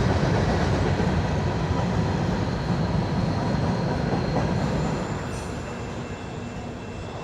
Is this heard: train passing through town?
yes